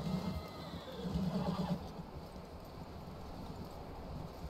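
Horse hooves clip-clopping at a steady pace with a short whinny, set against a rumbling outdoor background, in the video game Red Dead Redemption 2.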